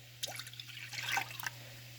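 A cup of water is poured into 3.25% milk for a stretched homemade Alfredo sauce, a short, faint splashing trickle heard close up in a quiet kitchen.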